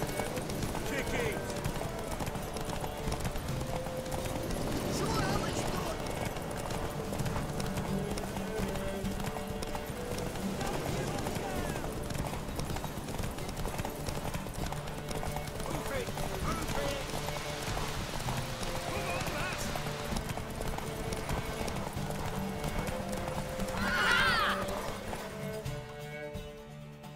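Horse hooves clip-clop and gallop steadily through a long race in The Witcher 3, with a brief whinny near the end and character voices talking over the running hoofbeats.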